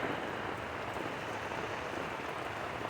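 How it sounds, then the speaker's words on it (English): Rain falling steadily outdoors after a cold winter spell, a dense even hiss of drops at close range, unbroken and fairly loud with no voices. "It's raining."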